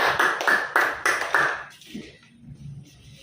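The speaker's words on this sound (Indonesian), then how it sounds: "tepuk tangan buat Furkan" Short burst of classroom applause from students for a classmate, several quick rhythmic rounds of clapping close by, then stopping and fading into quiet room noise and faint movement.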